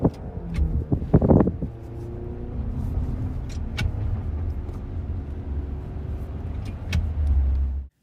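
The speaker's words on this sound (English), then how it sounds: "there's a video of this guy driving around for 45 seconds, shifting like a normal stick shift car, but it's like adding noise" Car being driven with simulated stick-shift engine noise: a steady low engine drone runs throughout, with a louder burst of revving or clunking near the start and a swell toward the end.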